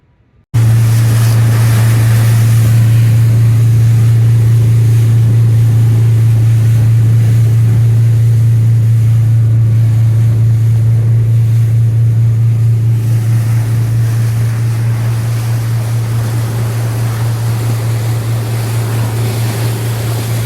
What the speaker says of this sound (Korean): 이제 배를 몰고 나가고 있습니다.